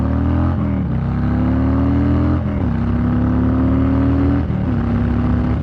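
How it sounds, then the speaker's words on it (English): A 2020 Harley-Davidson Low Rider S accelerating hard on a straightaway, its loud, close engine note climbing in pitch with a couple of gear shifts breaking the pull. "Oh yeah, this bike has plenty of pull, plenty of torque. It sounds good."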